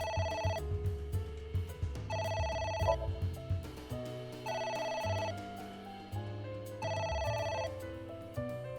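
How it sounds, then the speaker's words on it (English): A phone rings repeatedly in the video game Ai: The Somnium Files, a bright electronic ringtone in regular bursts about once every two and a half seconds over a low musical background, no speech. "It won't stop ringing."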